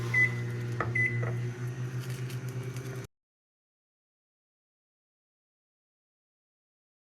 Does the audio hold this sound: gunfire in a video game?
no